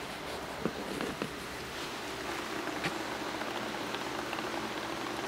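An aquaponic pump in a split floating raft system pushes water bubbling up through the middle of the bed, a steady close gurgling wash with a few brief splashy pops and no talk.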